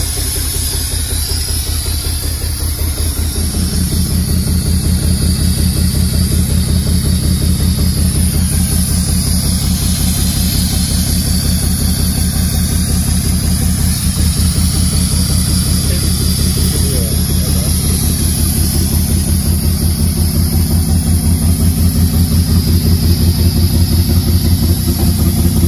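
A 1940 Mercedes barn-find six-cylinder engine idles roughly on only four cylinders, a steady close, loud uneven chugging with a dense pulsing rumble that runs continuously throughout.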